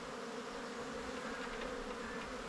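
Honey bees buzzing steadily at close range during a springtime hive inspection, a dense, continuous drone from the opened colony with no talk over it.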